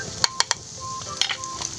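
Noodles and egg being stirred in a wok, with a steady sizzle of frying and a few sharp scraping clicks of the utensil against the pan, close and without talk.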